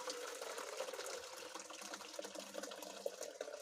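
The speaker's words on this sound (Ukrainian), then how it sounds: "Беремо водичку, закипятили. Літр води. Заливаємо." Boiled water, about a litre, pouring steadily into a container, a continuous splashing gush close by with no voices.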